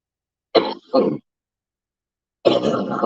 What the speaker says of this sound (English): Got a terrible cough.